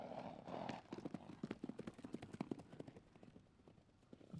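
Video-game horse hooves clip-clopping at a walking pace in Microsoft Flight Simulator 2020, a steady run of fairly close hoofbeats that thin out and fade toward the end.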